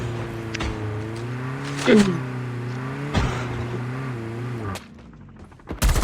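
A vehicle engine hums with a sustained, slightly wavering tone in the Call of Duty Mobile game, with a few sharp gunshot-like cracks and a fresh burst near the end.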